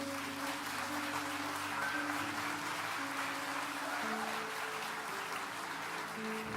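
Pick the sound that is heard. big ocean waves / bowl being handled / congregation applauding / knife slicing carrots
congregation applauding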